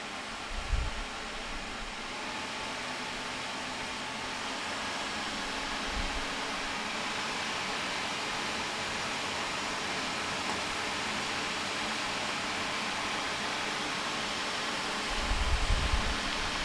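Dyson AM02 Air Multiplier tower fan oscillating at a higher airflow setting gives a steady, soft, broad whoosh of moving air, with a few low thumps at the start, middle and end.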